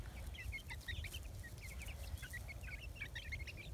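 Baby chicks chirp in quick high bursts, a busy continuous peeping over a low background hum, with a pet dog nearby.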